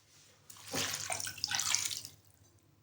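One and a half glasses of water pour into a cooking pot holding chicken and whole spices, making a soft, brief splash of a couple of seconds that fades out.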